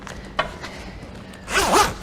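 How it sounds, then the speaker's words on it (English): A Bimini top canvas zipper on a 2021 Centurion Fi23 boat being pulled: a couple of faint ticks, then one loud, close, rasping zip lasting about half a second near the end. "all I have to do is start the zipper, make sure it comes over the back hoop"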